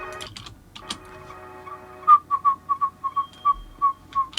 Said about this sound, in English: So this will be our little squeaker sound that happens.